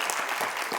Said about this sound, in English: Can we get a round of applause for all those fabulous people?